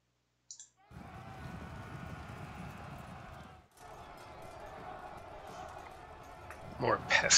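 A dense, steady rumble of many light cavalry horses galloping in the video game Pike and Shot runs throughout, with a brief dip midway, while a voice talks over it.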